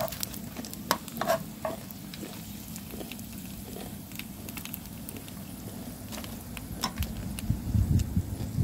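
Daing, dried fish including dangit and galunggong, sizzles and crackles steadily in a frying pan while it is stirred, with scattered sharp pops and scraping over a continuous fry.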